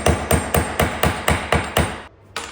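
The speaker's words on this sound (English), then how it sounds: "We're gonna use this bracket as a hammer." A screw is driven into a hand-rail mounting spot with a metal bracket used as a hammer, giving about eight sharp, evenly spaced metallic taps close by, then a brief pause and one final strike.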